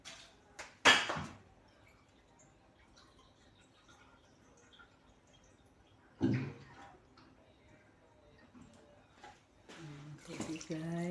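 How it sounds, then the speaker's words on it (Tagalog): Water splashes into a cooking pot for fish paksiw in a few short pours, separated by quiet stretches, with a voice joining near the end. "Lagyan natin ng tubig."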